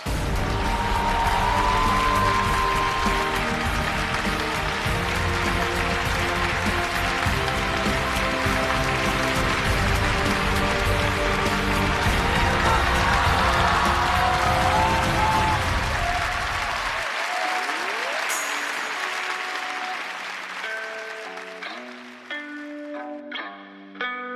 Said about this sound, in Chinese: 来吧，兄弟，掌声有请